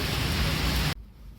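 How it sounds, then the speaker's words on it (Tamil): Steady rain pours down as a loud, even broadband hiss that cuts off abruptly near the end, leaving a much quieter background. "மழை பெய்யுது நிற்குது."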